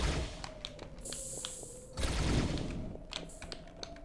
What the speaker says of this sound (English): So let's try to hit that one over there and shoot this one.